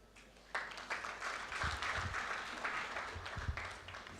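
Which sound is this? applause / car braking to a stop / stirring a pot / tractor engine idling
applause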